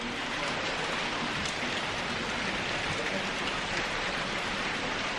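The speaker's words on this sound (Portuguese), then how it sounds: "Chovendo bastante." Steady, heavy rain pours down without a break at a guesthouse in São Lourenço, Minas Gerais, a dense even hiss of drops hitting surfaces, close by and with no voices.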